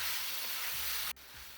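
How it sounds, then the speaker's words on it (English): Chicken, masala and peppers frying in a pan for a chicken jalfrezi, a dense close sizzle that drops suddenly partway through, probably as the food is stirred, then carries on a little quieter. "keep frying the chicken and the masala and the peppers for another 3 to 4 minutes"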